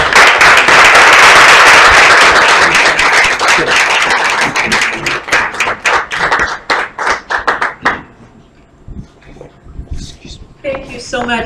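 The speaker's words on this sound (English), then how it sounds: "Please give her a round of applause." Audience at an art event in a café gives the host a round of applause, loud dense clapping that thins into scattered individual claps and fades, followed by someone speaking.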